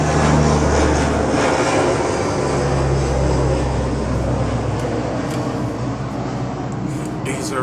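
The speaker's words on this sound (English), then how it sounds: "These aeroplanes will literally disrupt my videos each and every time." Aeroplanes fly low over a spot near Ghana's airport, a loud, steady engine roar filling the whole stretch close overhead and slowly easing off.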